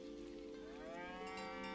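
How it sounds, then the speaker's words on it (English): A cow moos in a PlayStation video game trailer, a long rising, drawn-out low call over steady background music, fairly loud and close with no talk. "Haha, you can pet the cow."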